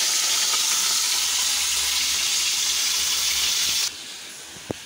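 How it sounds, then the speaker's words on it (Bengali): A big fish frying in hot oil makes a steady, loud broadband sizzle that runs for about four seconds, then drops away abruptly to a quiet background with one small clink near the end. "এখানে তেল গরম হয়ে গেছে। প্রথমেই বড় মাছটা ভাজবো"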